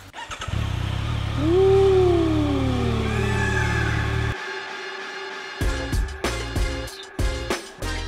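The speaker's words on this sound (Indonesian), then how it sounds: "Oke, kita nyalain motornya. Siap, engine start." A 2025 Yamaha MT-09SP motorcycle engine cranks and catches, revving up loudly then settling into a steady idle before cutting off abruptly, followed by a few sharp clicks and knocks.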